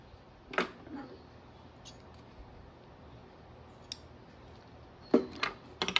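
Scissors snip through sewing thread beside an overlock machine, a few sharp, close clicks, one early, a faint one mid-way and a quick cluster of cuts near the end, over a quiet room.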